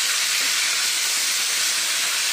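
Chutney hits a hot tempering of curry leaves in a pan, setting off a loud, dense, unbroken hiss of steam and sizzle, close and steady throughout.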